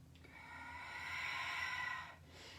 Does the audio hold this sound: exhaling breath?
yes